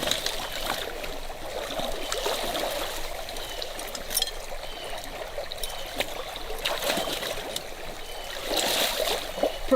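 Current flows steadily through a creek at a trapping site, giving a continuous close rushing and trickling wash of water with no talk.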